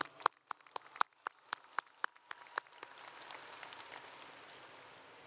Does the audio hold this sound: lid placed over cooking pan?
no